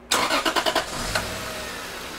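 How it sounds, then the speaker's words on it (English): A Lexus GS sedan, 1998 to 2005 with the A650E transmission, starts with a short run of rapid starter cranks, catches and settles into a steady, fairly quiet idle. "So we're going to go ahead and start it and put it through park and neutral and first and through all the gears"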